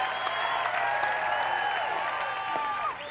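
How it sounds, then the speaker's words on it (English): College baseball crowd at Alabama cheering and clapping in a sustained wash of noise, with whistles and shouts rising over it and easing off near the end. "For the first time all night, the Alabama crowd is on its feet."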